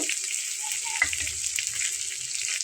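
An onion and scallion mash fries in a pan with a steady close hiss and sizzle, with a few soft scraping stirs underneath across a short stretch.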